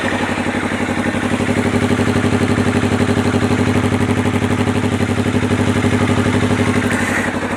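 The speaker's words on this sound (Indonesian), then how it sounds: "untuk motor ini sekarang kita cek suaranya kayak apa." A Honda CBR250RR fitted with a racing exhaust idles close by, a steady, even engine thrum with a fast pulsing rhythm that holds at constant loudness throughout, with no voices over it.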